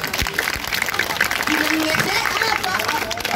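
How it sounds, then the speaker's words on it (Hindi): A crowd at a Shahid Diwas gathering at Jantar Mantar claps loudly and continuously, a dense, even wash of applause filling the whole stretch. "बजाइए एक बार जोरदार ताली"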